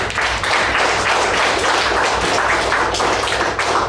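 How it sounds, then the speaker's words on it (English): Sustained audience applause at a club meeting, dense and steady clapping that fills the room for several seconds without a break, loud and close. "they deserve a round of applause as well"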